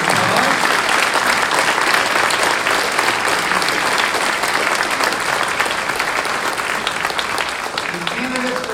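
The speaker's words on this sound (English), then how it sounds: "Please give our Waterworks team a big round of applause." A town candidate forum audience gives the Waterworks team a big round of applause: loud, continuous crowd clapping close by for the full stretch, with a little murmuring underneath.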